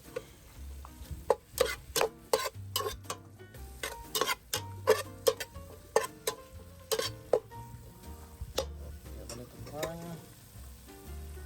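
A ladle stirs a coconut fish stew of mahi-mahi with crushed garlic in a pot. Irregular clinks and scrapes of the metal ladle sound against a soft simmering sizzle, fairly quiet, with no speech.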